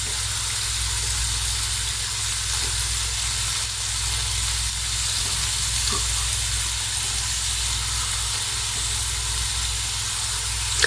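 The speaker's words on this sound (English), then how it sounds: "And I'm going to close the top, and it's going to grill the onions as well." Burgers and onions grilling under the closed lid of a George Foreman grill, giving a steady, even sizzle and hiss close by with no talk.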